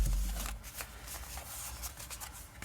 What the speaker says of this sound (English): so let's cut the deck